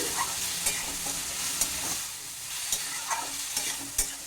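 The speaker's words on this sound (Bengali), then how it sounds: "এতে আমি অল্প একটু জল দিয়ে এইটাকে ভালো করে মেরে ফেলে দিচ্ছি" Spice paste for a traditional Bengali giant taro dish fries with a splash of water, hissing steadily while a spoon stirs and scrapes the pan in repeated close, sharp strokes.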